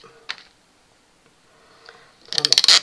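A couple of faint clicks in near silence, then a quick burst of crisp snipping as tape is cut close by.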